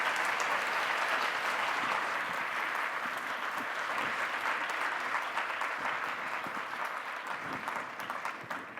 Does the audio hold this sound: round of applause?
yes